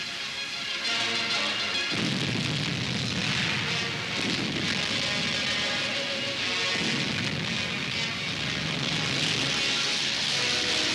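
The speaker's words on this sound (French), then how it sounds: "Abwehrfeuer der feindlichen Artillerie." Enemy artillery defensive fire in a WWII newsreel, heavy rolling booms and rumbling blasts repeating over a dense, continuous noisy din for around ten seconds.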